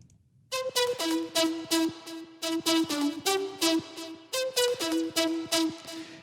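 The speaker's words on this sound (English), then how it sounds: "So the first lead layer sounds like this" A synth lead layer with a big, roomy sound plays a melody of sharp, bright plucked notes with long sustain, repeating in phrases, loud and alone.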